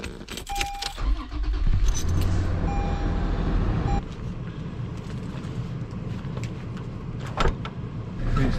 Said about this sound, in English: Want to let the truck warm up a bit?